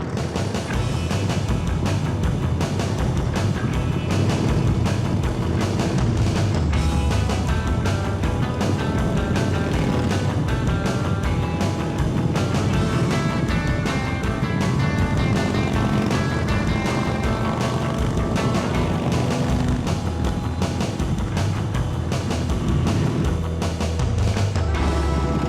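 Group of custom-built motorcycles riding off together, a dense, loud, continuous engine roar that holds steady throughout with no talk.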